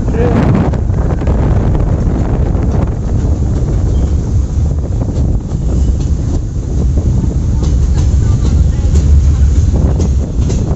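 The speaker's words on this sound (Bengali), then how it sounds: "ট্রেন গেল।" A loud train rumbles past close by, a continuous heavy roar mixed with wind buffeting the microphone, with faint voices underneath.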